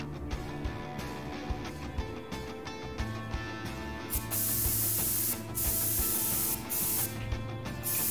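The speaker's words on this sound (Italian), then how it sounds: "Devo spruzzare un po' alla volta." Spray bottle cleaning in the video game Prison Simulator: repeated short bursts of hissing spray, several quick puffs then longer sustained sprays, close and loud over a faint background hum.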